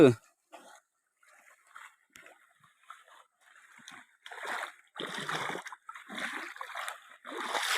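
Clear water in a small rural stream on the way to rice fields gurgles and splashes in bursts, growing louder and fuller toward the end, close by.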